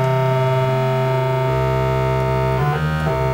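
A loud, steady square-wave tone from a cheap £15 keytar synth driven by an Arduino buzzes continuously, its timbre brightening as an extra harmonic is layered in, with a brief wobble near the end.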